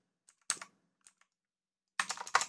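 Computer keyboard keys clicking during copy and paste shortcuts: a few scattered light taps, then a quick close burst of keystrokes, crisp and quiet with no talk.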